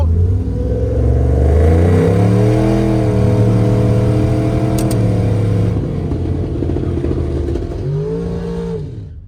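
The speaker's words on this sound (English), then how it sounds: "Good burnout." A turbocharged Dodge Dakota R/T pickup doing a burnout at a drag strip, its engine held at loud sustained high revs with rising and falling pitch and a roar that fades slightly toward the end.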